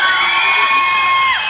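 A wedding crowd cheers loudly at close range, with sustained shouts and whoops over a continuous wash of clapping and voices.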